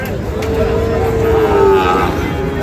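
A cow's long, drawn-out moo rises out of a noisy cattle market crowd, with people talking and bargaining over prices close by throughout.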